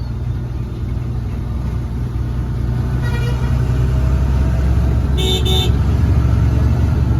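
Road traffic in a jam in Morbi, with a continuous engine rumble from cars and buses close by and a couple of short car horn toots partway through.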